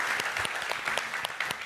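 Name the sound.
audience applause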